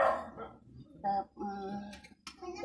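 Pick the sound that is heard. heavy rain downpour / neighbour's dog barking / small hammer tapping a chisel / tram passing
neighbour's dog barking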